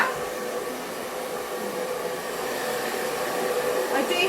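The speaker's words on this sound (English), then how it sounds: "It's a good hair dryer." A steady, whirring hair dryer runs continuously at close range while drying a dog, its broadband hum holding level throughout with no breaks.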